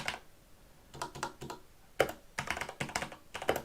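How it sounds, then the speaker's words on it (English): Bursts of clacky typing on a Corsair K63 mechanical keyboard, close and fairly loud, coming in quick clusters separated by short pauses. "this is a more typical angle for me to be typing at"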